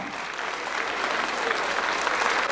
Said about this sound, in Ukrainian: Дайте оплески, Ярославчик, люди там.